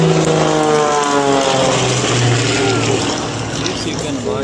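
Aerobatic plane performing display manoeuvres at an airshow in Newcastle, its engine droning and shifting in pitch as it climbs and turns, loud and fairly near, with voices of a commentator and spectators over it.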